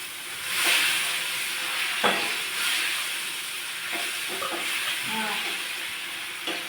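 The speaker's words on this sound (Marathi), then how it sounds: "जिरे टाकून जिरे मोहरीची तडका देऊ आणि गॅस बंद करू" Cumin and mustard seeds tempering in hot oil for a raw mango chutney, giving a steady hiss and sizzle with a few scattered pops and crackles.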